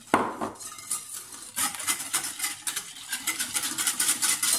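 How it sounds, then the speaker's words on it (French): Egg yolks, sugar, vanilla and milk whisked in a bowl for baked French toast: a single clank, then a rapid run of light metallic ticks and scrapes against the bowl that keeps going. "Alors, une fois que c'est fait, je rajoute le lait. Hop là. Je vais mélanger comme ceci."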